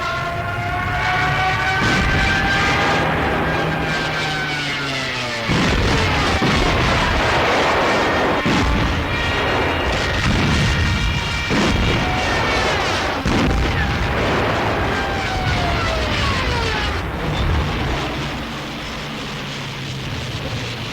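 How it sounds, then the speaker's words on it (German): Stuka dive bombers attack enemy ground targets in a 1943 wartime newsreel: loud, continuous rumbling booms of explosions mixed with rising and falling whining tones, dense and unbroken throughout. "Stuka belegen feindliche Erdziele mit Bomben."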